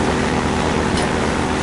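A hovercraft drives in the video game Half-Life 2 with a loud, dense, steady roar of engine and water-rushing noise, continuous and unbroken, with no voices.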